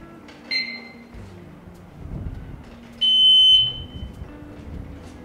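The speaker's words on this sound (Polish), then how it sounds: "od razu automatycznie włącza się alarm" Short piercing electronic beeps from a motorcycle disc lock alarm chirp a few times, one held longer, over quiet handling sounds.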